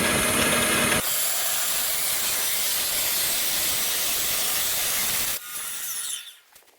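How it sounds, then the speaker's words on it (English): A toothless rock saw cuts a small piece of wood, producing a steady, loud hissing grind that runs for several seconds. It stops abruptly, leaving a fainter tail and then quiet. "if you're new to rock cutting on these rock saws, they don't have teeth"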